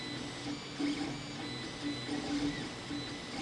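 Creality Ender-3 3D printer running a print, a steady motor whine and fan hum with stepper tones rising and falling in short bursts, close and even throughout.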